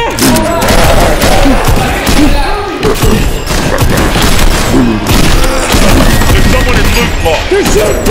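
Gunfire in a battle royale video game, dense and continuous with rapid shots and thuds layered over loud game noise, while people shout and talk over it.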